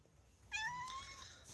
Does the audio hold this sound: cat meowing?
yes